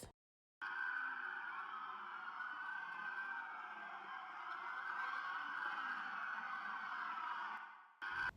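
A steady, continuous police car siren tone rings out loud and unbroken for several seconds, with no voices over it, cutting off abruptly near the end.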